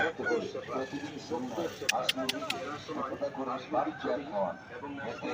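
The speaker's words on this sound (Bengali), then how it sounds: "আজকে আমাদের প্রচার কেন্দ্রে বেশি বড় মুরগা এসছে।" Chickens cluck and squawk in the background at a country chicken market in Purulia, beneath nearly continuous talking, with a few sharp clicks partway through.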